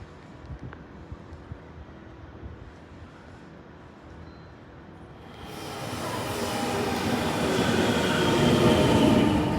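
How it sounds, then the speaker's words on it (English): A train pulls into a station in Yui, Japan. Quiet ambient rumble gives way to a loud, building roar of railcars with wheel squeal that fills the last few seconds, close by. "There's the train I just got off."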